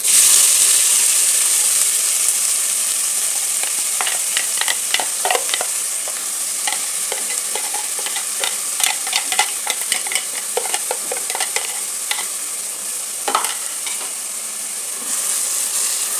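Chopped onion and bay leaf frying in hot oil in a pressure cooker, a loud steady sizzle with rapid crackles and spoon scrapes from a stirring utensil, close, with no talk.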